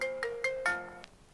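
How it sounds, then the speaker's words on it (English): A phone ringtone plays for an incoming call, a bright electronic melody of several quick tonal notes that rings out clearly and then fades. "Perfect time to get a phone call."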